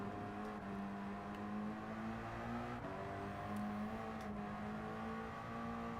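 A Mazda Atenza engine hums steadily in Gran Turismo 7, a faint, even drone with small shifts in pitch and no voices.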